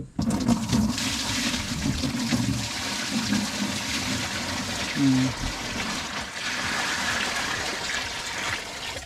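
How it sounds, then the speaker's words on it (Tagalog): Water poured from a container into a pet bird's bath basin, a steady splashing pour that runs for several seconds, close and fairly loud, with a brief break partway through. "Ito na ang tubig mo. Bubuhos ko dito ha."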